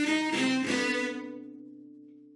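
Four sustained string notes spelling the DSCH motif from Shostakovich's String Quartet No. 8, played smoothly in quick succession and then held, ringing out and fading with no voices.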